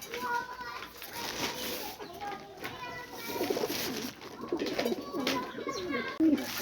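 Pigeons coo softly near a spot where food is set out for backyard birds, low murmuring calls mixed with someone talking and some background chatter.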